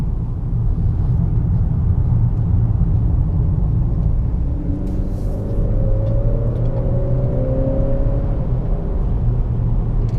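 A 2018 Honda Accord Sport with a 2.0-litre turbo engine and 10-speed automatic accelerates hard, heard from inside as a low steady rumble with engine tones climbing through gears midway.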